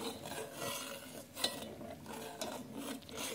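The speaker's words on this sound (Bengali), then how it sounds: "আমি চালগুলিকে আমি আস্তে আস্তে দিয়ে দেবো এবং নাড়তে থাকবো।" Gobindobhog rice being stirred into milk for kheer in a cooking pot, a soft continuous scraping swish with faint clinks, fairly quiet and steady with no talking.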